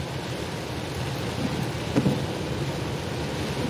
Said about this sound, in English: I can't believe the rain is going to stay with us all day again today